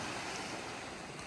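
Surf washing onto a Bermuda beach, a steady broadband wash of breaking waves with some wind noise, continuous and fairly loud with no voices.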